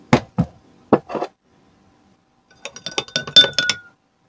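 Spoon clinking against a cup or glass as clay is stirred into water, a few separate taps followed by a quick run of small, close, bright clinks.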